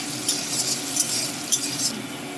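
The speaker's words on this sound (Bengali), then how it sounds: "একটু হলুদ দিয়ে দিলাম একটু তেলটা কটর কটর করছে" Turmeric goes into hot oil crackling in a pan for a Bengali spinach dish, a steady close hiss with a few light clinks and scrapes of a utensil, no voices.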